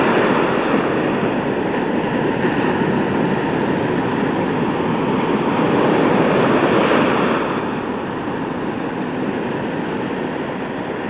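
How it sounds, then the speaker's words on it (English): Large ocean waves breaking far out near Klamath Falls, Oregon: a steady, broad roar of surf with wind noise across the microphone, swelling slightly in the middle and easing near the end, no voices. "Pretty big waves."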